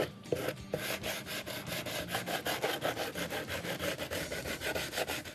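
Coarse 60-grit sandpaper rubs along the edges of a slatted wooden planter, a steady close scratchy rasp of quick back-and-forth strokes with no talking.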